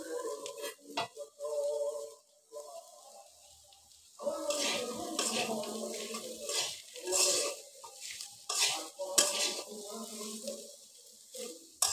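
Jackfruit seeds frying with garam masala paste in a pan, a close scraping and stirring with a soft sizzle under it that starts and stops, quiet stretches in between.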